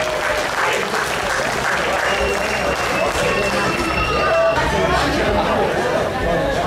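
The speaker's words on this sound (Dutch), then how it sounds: "Applaus!" A crowd applauds at the Harlingen Visserijdagen criterium bike race, with steady loud clapping mixed with chatter and voices, a lively outdoor hubbub throughout.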